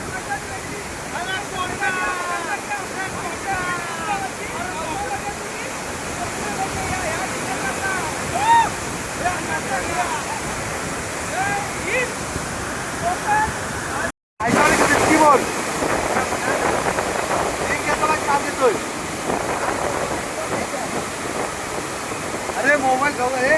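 The Veer Ranpat waterfall roars as a dense, steady rush of falling water close by. A voice talks over it, and the sound cuts out briefly near the middle.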